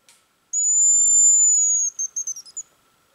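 Metal decoy whistle for hazel grouse, blown outdoors in deep frost: one long thin high-pitched whistle, then a quick run of four or five short trilling notes, loud and close with silence around it.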